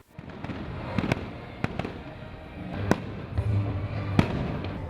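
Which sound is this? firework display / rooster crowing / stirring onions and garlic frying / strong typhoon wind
firework display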